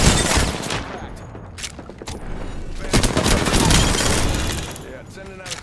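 Rapid bursts of video game gunfire crackle through a ranked match, loud and dense, with a steady roar of shots and impacts running throughout while players talk over the action.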